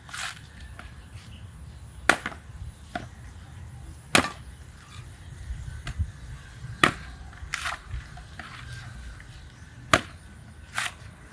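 Sharp woody cracks and splitting thuds land every couple of seconds as a coconut is husked by foot, with quieter scraping and rustling between them, close by.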